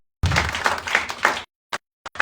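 Congregation at a Sunday church service in Marilao clapping together, a short burst of dense applause lasting about a second, then a few scattered isolated claps trailing off.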